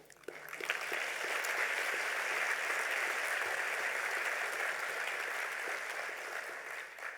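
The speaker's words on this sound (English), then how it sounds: "They gave you an applause. I want to ask for another one." Sustained applause from a large audience at an opening ceremony with a United Nations Under-Secretary-General present, a broad even roar of clapping that swells quickly, holds steady and then tapers slightly at the end.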